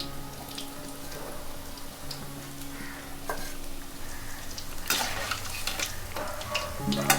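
Cauliflower pieces in batter for Gobi Manchurian fry in hot oil, giving a steady soft sizzle with occasional stirring clatter and light scraping, fairly quiet with no speech.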